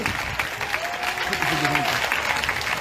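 Congregation in a church worship service applauding and acclaiming Jesus, a steady wash of clapping hands with a few voices and a faint sung tone rising through the crowd, sustained and fairly loud throughout.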